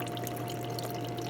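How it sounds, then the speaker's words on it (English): Water pouring from a tap or jug into a measuring cup set on a kitchen scale while weighing for sourdough bread, a steady even splashing rush, close and continuous with no talk. "I need to add 285 grams of water"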